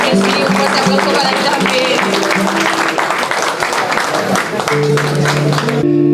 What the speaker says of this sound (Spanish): un fuerte aplauso para el señor Eduardo Duval